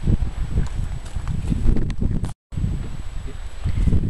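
Wind gusts buffet a small spring garden with guy ropes set up, producing a loud, blustery rumble and rustle with one brief dropout midway.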